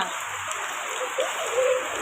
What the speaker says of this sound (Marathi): त्यानंतर पाऊस जरा जास्तच वाढला